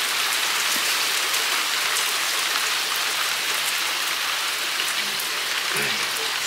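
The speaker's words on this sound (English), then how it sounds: "One big bloody heavy shower." Heavy rain pours steadily in a dense, hissing wash, loud and unbroken throughout, with a faint voice briefly underneath near the end.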